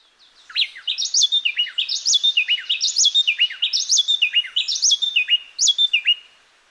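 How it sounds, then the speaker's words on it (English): Two songbirds trade overlapping, high whistled song phrases in a quick, steady rhythm; one drops out near the end while the other adds a final song before stopping. "one of the birds stops and the other one goes for one more song before it stops"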